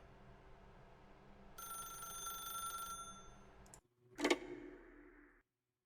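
An in-game telephone in The Stanley Parable rings with a bright electronic trill for a couple of seconds, then a sharp click and short clatter follow before a quiet fade.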